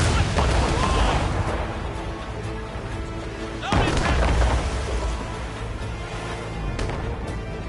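Cannon fire in a naval battle in Assassin's Creed Rogue, with booming volleys, one heavy blast around the midpoint, dense rumbling and crackling, and shouted crew voices mixed in throughout.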